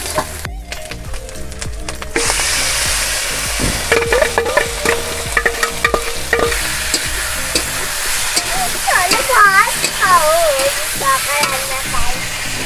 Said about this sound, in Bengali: ফুটছে কেন এটা?